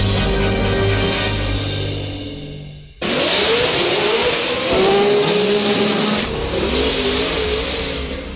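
A car's engine revs hard and accelerates toward top speed, loud and close. A rising roar cuts off abruptly, then a fresh surge climbs through the gears with a strained, whining drone.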